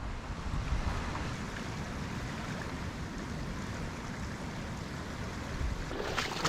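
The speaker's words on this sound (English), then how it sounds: "The water is just starting to come through here and make its own path." Storm runoff flows and carves a fresh channel, a steady low rushing wash with wind buffeting the microphone, continuous and fairly close, with no voices.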